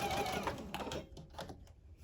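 A sewing machine stitches a fabric face mask with elastic in a quick run that stops and starts in short bursts as the seam is backstitched, quiet and close.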